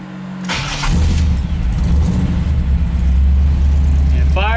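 A 1978 GMC K5 Jimmy engine cranks and catches, then settles into a loud, steady close-up idle running continuously to the end, with a brief voice at the very end.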